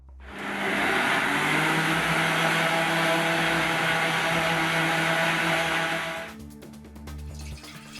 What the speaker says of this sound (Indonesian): lalu di blender sampai halus.